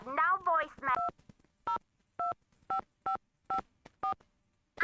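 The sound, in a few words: telephone keypad tones dialing voicemail in Nancy Drew video game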